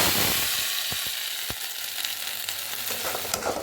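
Cashew and melon seed masala paste fries in a pan with a loud, dense, continuous sizzle, punctuated by a few sharp spatula taps and scrapes.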